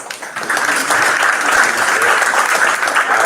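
Audience applause for award winners closing a pro athlete to investor panel in Miami, a loud, steady wash of clapping that swells in after a quiet start and holds for about three seconds.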